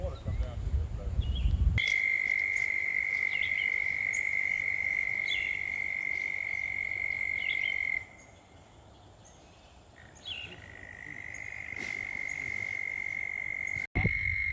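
Frogs by the water give a sustained, high trilling call that runs for several seconds, breaks off, then resumes, over a low outdoor background that begins with a brief loud rumble.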